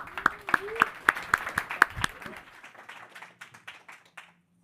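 An audience at a startup accelerator demo day claps, with a few sharp, distinct hand claps up front that spread into looser, scattered applause and then die away to silence.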